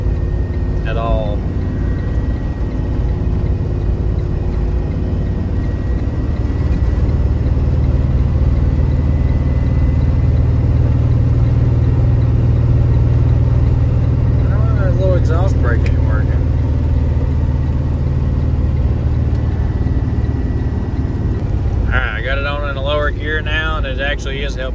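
A Kenworth W900 truck runs down a mountain with no trailer brakes, its engine droning loud and steady with a low rumble throughout. Someone talks briefly over it at times.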